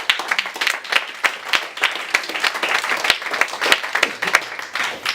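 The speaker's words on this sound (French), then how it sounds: "Applaudissez." A studio audience at a mentalist stage show claps with uneven, sharp strokes that swell and dip across a few seconds, sounding close and lively, with no talking.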